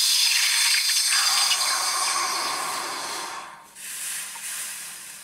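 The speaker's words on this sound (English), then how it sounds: "Love a little bit of quenching noise." Hot cast silver plunged into water gives a loud, bright hiss that fades gradually over a few seconds, briefly dips, then flares again more softly before trailing off.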